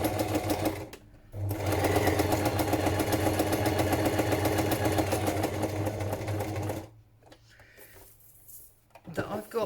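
Sewing machine stitching a fabric journal cover, running steadily for several seconds, then stopping, followed by softer handling noises.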